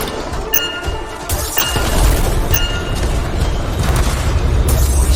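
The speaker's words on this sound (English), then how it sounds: "Stand clear for detonation." A detonation goes off in the video game Anthem, a loud booming blast with crashing, shattering debris that rumbles on for several seconds, with sharp impacts scattered through it.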